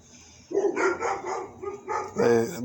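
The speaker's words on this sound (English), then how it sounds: "Dude, it's not even my dog. It's fucking neighbors' dogs." Neighbours' dogs bark in a few loud, close bursts after a quiet start, with a brief pause and then a final volley.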